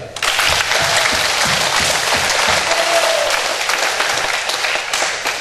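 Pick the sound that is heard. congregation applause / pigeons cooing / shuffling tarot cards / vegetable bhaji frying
congregation applause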